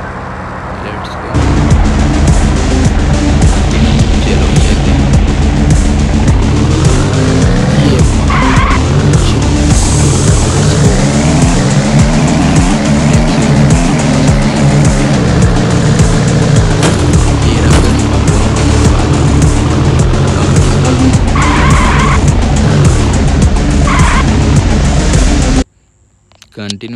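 A car in the GTA video game drives at speed with a steady engine roar and repeated tire-squealing skids throughout, loud and continuous before cutting off near the end.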